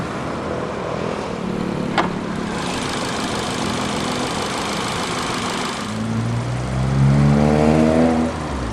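A 2014 Ford EcoSport Titanium's 1.5-litre Ti-VCT Duratec inline-four, with dual overhead cams and twin independent variable cam timing, idles steadily with a low hum and one brief click, then revs up in a rising sweep and settles back down.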